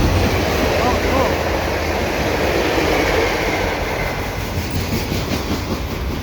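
A CP freight train rolls past Cedar Park Station at night, a loud, continuous rumble with rhythmic clickety-clack of wheels over rail joints, close and steady throughout.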